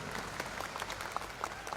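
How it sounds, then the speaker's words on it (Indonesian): An audience at a religious talk claps together, a brief patter of applause that is moderately faint and heard without speech. "alhamdulillah ya tepuk tangan"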